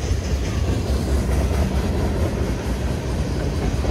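A late-running CSX freight train, formerly Pan Am, runs from Portland, Maine's Rigby Yard toward Selkirk Yard and rolls past at night in a loud, close, continuous rumble with steady wheel clatter and no voices.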